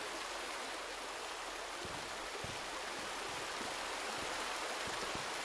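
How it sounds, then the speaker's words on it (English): Water pours onto a fire after a lever is pulled in the Resident Evil 2 Remake. A steady, rushing, broadband gush runs through the whole clip with a few faint thuds underneath, and nobody speaks. "I'm going to hit this lever. And it's going to dump water on the fire, putting out the fire."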